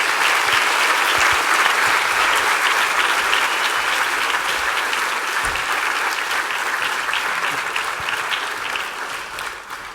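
Sustained applause from a high school assembly audience for a visiting family, dense and steady clapping throughout, slowly thinning toward the end with no one talking over it.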